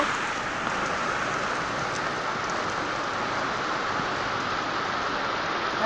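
Heavy rain pours down in a dense, steady hiss, unbroken and loud throughout with no voices.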